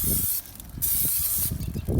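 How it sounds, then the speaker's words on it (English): Cooking oil from a can sprayed onto the plate of an Old Smokey grill in several short hissing bursts, close and fairly loud, with brief pauses between squirts. "I'm gonna spray this grilling plate down"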